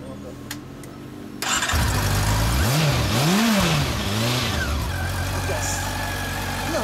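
A Honda CB400 Super Four Hyper VTEC Revo NC42 motorcycle cranks and fires up after a quiet moment, blips its revs a few times, then settles into a steady close idle, with people talking nearby.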